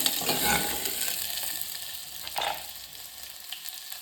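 Onion sizzles and fries in a hot pan for a soya chunks curry, a steady close hiss with a few stirring scrapes, no voices.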